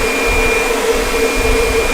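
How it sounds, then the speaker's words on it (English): A Kirby vacuum's hose blows air in a loud, steady, close whooshing roar with a constant motor whine and no talk. "So the hose now is blowing"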